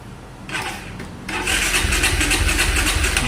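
A Rusi Raider 150 motorcycle engine struggles to start, with a short burst of starter cranking and then a rough, loud, uneven chugging that carries on, heard up close.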